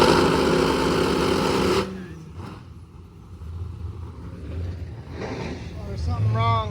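An 8.3 liter drag race car engine roaring loudly up close, then cutting off abruptly, leaving engine rumble and people talking until another engine rises at the end.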